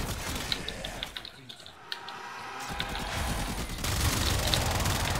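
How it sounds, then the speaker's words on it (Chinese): Phenmor weapon fire in the Warframe game, single tapped shots and then rapid automatic bursts, crackling and clattering at moderate loudness, with some voice underneath. "先用点射单射去爆头，然后就把它变成机枪，然后拿在那边扫。"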